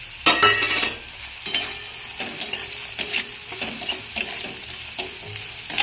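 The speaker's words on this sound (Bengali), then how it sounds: "তো দেখো সবজিটা আমার হালকা হালকা ভাজা হয়ে গেছে।" Vegetables fry in a pan with a continuous sizzle, broken by repeated scraping and stirring strokes of a utensil against the metal, close and fairly loud with no talking.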